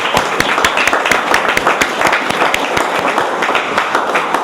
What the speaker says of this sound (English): I just think we should give everybody a round of applause for being part of this.